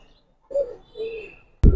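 Giribaz racer and coloured pigeons in a loft coo softly in two short low calls, close by, followed by a sudden loud thump or flutter at the end.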